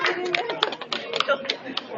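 Audience applause for a young woman volunteer at a science show staged by university researchers at a festival: dense, steady clapping from a crowd with sharper individual claps and voices mixed in.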